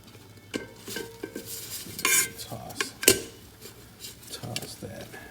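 Sweet potato fries tossed in a pan, with scattered utensil clinks and scraping knocks against cookware over a light sizzle, one sharp clatter midway, and speech in places.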